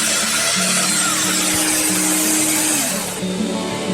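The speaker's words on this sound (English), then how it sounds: "Always use the extractor with the domino doweller." Festool Domino 700 XL doweller plunging into timber for a five-bar gate with its dust extractor running, a steady loud whine of motor and suction with brief tonal shifts as the cutter enters the wood.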